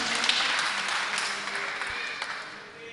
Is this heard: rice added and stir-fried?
no